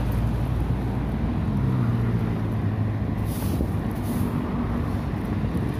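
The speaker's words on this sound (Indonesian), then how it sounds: "Ini mulai terasa kendaraan sudah mulai padat menjelang masuk Kota Makassar." Steady drone of dense road traffic on the way into Makassar city, trucks and cars rumbling continuously nearby with a hiss of air brakes, under heavy wind buffeting from a moving bicycle.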